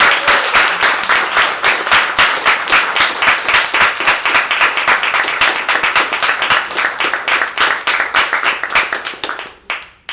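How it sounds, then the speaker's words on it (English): Big, crisp round of applause from an audience at a World Refugee Day event, loud and close, holding steady for several seconds before tapering off. "And a big round of applause."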